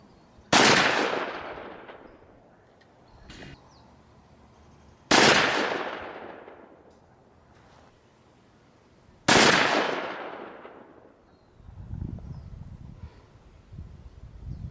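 Three loud, sharp .44 Magnum gunshots strike a concrete block outdoors, evenly spaced about four seconds apart, each with a ringing decay and faint rustling between them.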